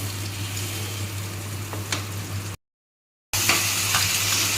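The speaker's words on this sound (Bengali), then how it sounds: "এবার এটা যতক্ষণ তেল না বেরোবে ততক্ষণ এইভাবে কষিয়ে নিতে হবে" Spice paste sautéing in oil with soybean chunks and potato for a vegetarian soybean curry, a steady close sizzle with stirring scrapes, a low hum underneath and a short break midway.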